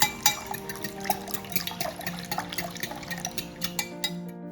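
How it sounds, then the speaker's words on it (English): Soy milk splashing and clinking in a bowl as a wet batter mixture is stirred, with light repeated taps and drips of mixing, steady and close, no voices. "Pour in the soy milk and mix the wet mixture."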